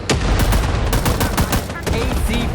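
Gunfire in the Vietnam War video game Rising Storm 2 Vietnam: rapid, loud bursts of rifle and machine-gun shots crack one after another in close succession, with a few faint voices underneath.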